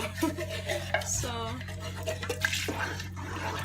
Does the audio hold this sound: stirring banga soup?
yes